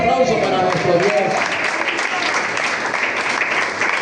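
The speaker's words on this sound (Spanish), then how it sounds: "Fuerte ese aplauso para nuestro Dios." Church congregation applauding in praise to God, a dense, steady wash of clapping that stays loud and even throughout, with some voices mixed in near the start.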